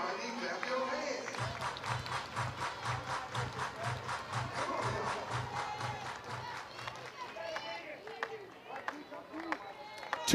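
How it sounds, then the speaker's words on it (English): A stadium crowd at an NCAA softball game between Auburn and Florida claps in unison, a steady rhythmic beat of about two claps per second. It is loud and sustained, then fades into scattered crowd noise. "Everybody clap your hands."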